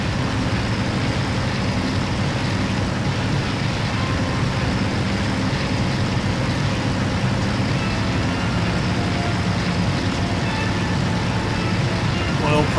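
An aircraft engine runs steadily in the DCS flight simulator game, a loud continuous droning roar with no change in pitch, while someone talks over it throughout.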